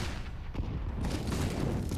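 Dense SMG gunfire in the Counter-Strike shooter on the Dust2 map, a loud, continuous rattle of rapid shots close by, with no talking over it.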